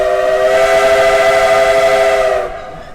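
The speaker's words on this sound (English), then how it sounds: "I love to hear that whistle go by." A steam train whistle on the Sumpter Valley Railroad in Baker County sounds one long, steady, harmonic blast, then cuts off abruptly, leaving a faint rumble.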